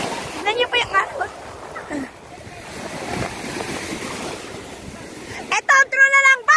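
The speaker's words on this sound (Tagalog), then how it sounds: "Tignan niyo po yung alon." Ocean waves breaking and washing along a beach at Nagbalayong, Morong, Bataan at low tide, a steady broadband surf roar with wind, briefly interrupted by loud shouting voices at the start and end.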